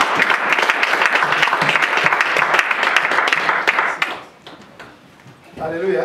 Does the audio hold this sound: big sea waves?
no